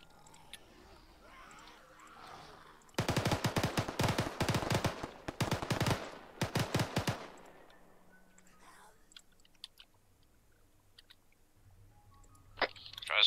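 Loud bursts of automatic machine gun fire in the military shooter Arma 3, during a zombie scenario. Rapid volleys crackle for about four seconds, with short pauses between strings, set against quieter game ambience.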